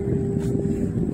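Wind buffeting the microphone outdoors beside fields and water, a steady low rumbling gust that fills the whole short moment without a break.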